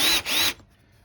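A blunt drill bit countersinks a screw hole in timber for a window planter box, giving a loud grinding whir in two short bursts that stops abruptly, followed by near silence.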